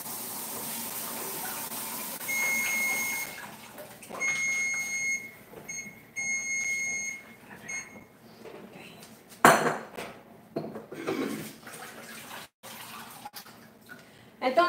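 Cold tap water runs into a pot of cooked vegetables to stop the cooking, splashing and drumming against metal amid clinking pot and cutlery clatter in a kitchen, close and moderately loud.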